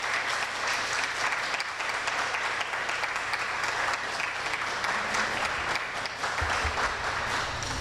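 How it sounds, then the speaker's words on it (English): Sustained audience applause at an academic research day conference, dense steady clapping from a large seated crowd filling the whole stretch without talk. "special applause."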